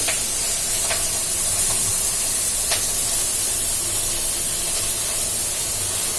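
Ridge gourd (turai) sizzling in hot oil seasoned with hing and turmeric gives a steady, loud hiss that fills the pan, with a few sharp pops and crackles breaking through the spray-like sizzle.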